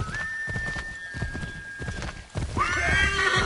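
A horse in the Assassin's Creed 3 video game whinnies loudly and clearly near the end, after a steady run of hooves clopping underneath, with a long whistle-like tone held through the first half.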